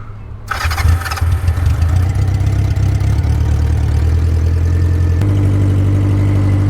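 Honda Nighthawk CB750 motorcycle engine cranks and fires up, then settles into a loud, steady idle close by, with a brief throttle blip just past the five-second mark.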